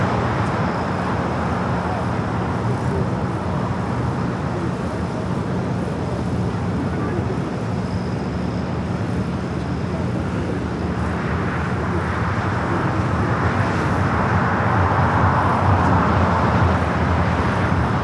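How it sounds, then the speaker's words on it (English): A steady, loud roar of an airliner taking off from the south runways at LAX in Los Angeles, a broad continuous rumble that holds throughout and swells slightly toward the end, with no voices over it. "Next takeoff here in the south"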